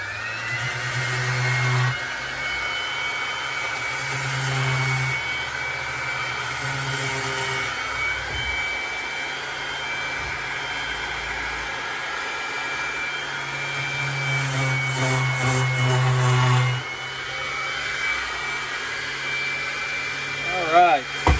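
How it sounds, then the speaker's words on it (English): A power sander drones steadily against a wooden serving tray for a long stretch, its hum rising and dipping as pressure shifts, with someone talking briefly over it. "So while we got the sander going, we'll go ahead and do our spots here that we filled and repaired."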